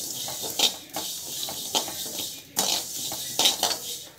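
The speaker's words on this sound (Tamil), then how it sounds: "நல்லா வந்து வதக்கிட்டுக்கோங்க." Sago and vermicelli sautéed in a pan for payasam, with repeated scraping and clinking of a utensil against the pan in irregular bursts, close and moderately loud, with no talking.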